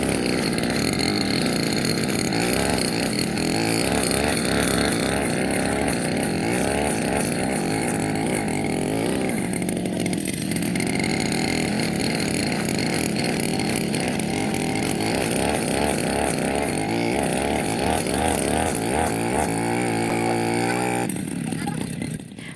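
A petrol grass trimmer works through thick, tall grass that wraps around its blade. The close, loud engine drone runs steadily and rises and falls with the cutting, while a person talks over it.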